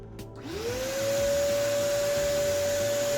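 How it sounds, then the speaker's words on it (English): A small power tool sands wood trim on an N scale model railway layout, its motor spinning up in pitch after a brief pause and then holding a steady, close, high whine with no talking. "Some sanding was required as you don't want the wood to sit above the track."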